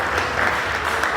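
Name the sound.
audience applause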